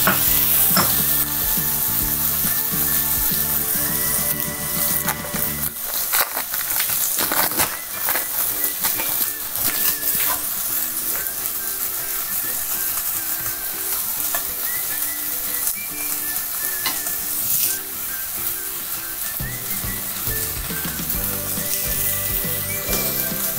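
A spoon stirs tomato and cheese in a hot pan for a keto salad, giving steady sizzling with scraping and clinking throughout, loud and close, with no voices.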